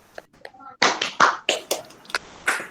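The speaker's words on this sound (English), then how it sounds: "Everybody can unmute and clap for yourself." Participants in a virtual entertainment festival session unmute and clap for themselves, giving a scattered, uneven run of separate claps and hand taps, close and sharp, mixed with a voice and other talk.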